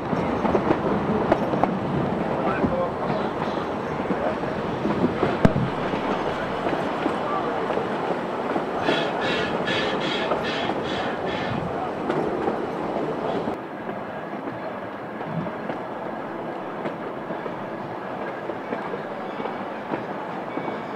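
A narrow-gauge train runs along a loop track near Lava Curve, its steady rumble and rail clatter continuous and fairly close, with a brief rhythmic clicking burst midway before the sound drops slightly quieter and more muffled.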